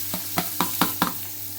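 Green chillies fry in a pan on a home stove while a spatula stirs them in five evenly spaced scrapes over a low, steady sizzle and hum, with no talking.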